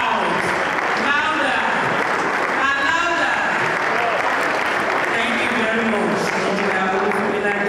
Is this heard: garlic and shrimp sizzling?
no